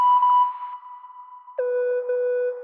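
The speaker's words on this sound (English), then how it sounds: "it's two beeps really close together" Camera beep sample played back in an NNXT sampler, two quick electronic beeps in close succession, clean tones, the second pitched lower and sustained, with no other sound.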